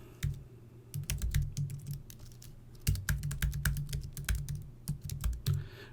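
Login details being typed on a computer keyboard, close, crisp key clicks in quick bursts separated by brief pauses, with no talking.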